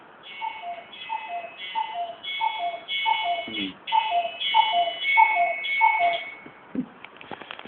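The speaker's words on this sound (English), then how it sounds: "I've got our cuckoo clock at home as well." A cuckoo clock ticks and chimes in a steady, regular pattern of paired tones, moderately close, with faint background noise.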